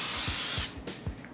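A hissing aerosol cooking spray on a sheet pan, one long burst that cuts off, followed by a few quick short spritzes close by.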